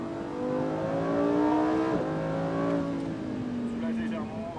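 A Lamborghini Huracan Performante with a 640 hp engine accelerates on the Fay de Bretagne track, its engine note climbing and easing through smooth revving sweeps, with faint voices underneath.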